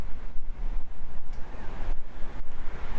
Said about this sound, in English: Bit blowy.